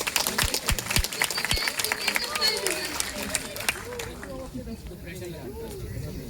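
An audience at Lucknow University applauds, with scattered claps fading into crowd murmur and chatter.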